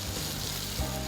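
Okra frying in a pan as it browns to golden, a steady close sizzle running throughout with no talk over it.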